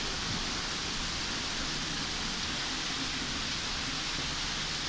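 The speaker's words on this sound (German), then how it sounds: "Das sind keine Sterne, das ist Regen." Heavy rain during a thunderstorm over Kiel pours down in a dense, steady hiss that stays constant throughout.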